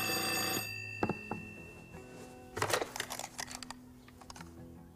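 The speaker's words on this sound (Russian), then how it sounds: "Возьми трубку." Old-style telephone bell ringing, a sustained loud ring that stops after half a second, followed by faint clicks, rustles and handling sounds as the receiver is picked up.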